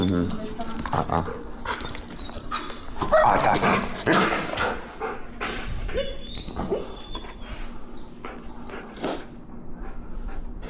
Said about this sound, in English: you're getting into a little bit of demand barking, demand whining